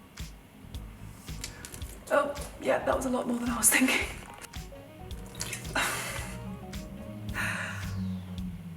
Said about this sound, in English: I don't really know how else to do this apart from like pour some water on my face.